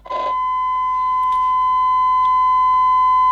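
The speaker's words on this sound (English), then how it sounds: "the signal tracer generates an alarm" A signal tracer sounds a steady 1 kHz alarm tone, a loud pure beep that starts after a brief knock and holds unbroken to the end, with faint clicks beneath it.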